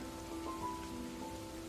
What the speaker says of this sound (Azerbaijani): Yağma, yağış.